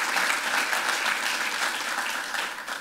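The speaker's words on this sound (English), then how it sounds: "We can applaud them." Dense, sustained applause from an audience at a Canadian infrastructure announcement by the Prime Minister, loud and even, fading slightly at the end.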